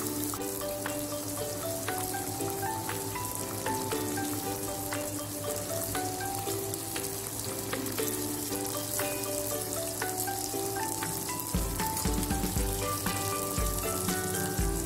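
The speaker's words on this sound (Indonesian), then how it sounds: "Kita lanjut goreng berikutnya ya." Battered chicken breast pieces frying in hot oil, a dense continuous sizzle with crackling pops, close and steady with no talking.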